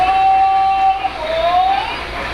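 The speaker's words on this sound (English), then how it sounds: "you can hear some of the sounds that the system makes, the train makes, as it goes along" A solar-powered model railroad train running on its layout, a steady mechanical hum with a thin whining tone that bends in pitch as it moves, fairly loud and close.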